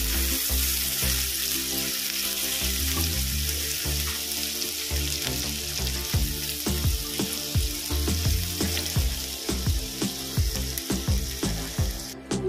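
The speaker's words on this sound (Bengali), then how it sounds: "আমি এবার এই তেলের মধ্যে দেব কুচিয়ে রাখা পেঁয়াজ। ভালো করে পেঁয়াজটা ভেজে নেব।" Chopped onion frying in hot oil for a pomfret curry, a steady close sizzle with scattered crackles and stirring scrapes throughout, no talking.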